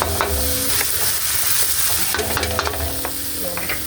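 Squid and kangkong (water spinach) are stirred in a hot frying pan for adobo, giving a loud, steady sizzle broken by repeated scraping and clattering strokes of the spatula. No one speaks.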